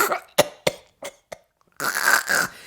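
A performer in a story reading acts out a cough from smoking kelp: four or five sharp, close cough bursts in quick succession, then a rough, drawn-out rasping exhale like a grimacing spit, loud and alone.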